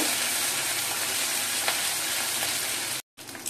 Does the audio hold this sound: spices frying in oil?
yes